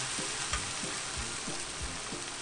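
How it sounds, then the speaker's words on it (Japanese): Kakiage tempura bubbling in oil held around 160 to 170°C, a steady close sizzle with a few soft knocks repeating at a regular pace, and no talking. "だいたいね、160度から170度で、私はね、片面2分ずつ揚げてる。"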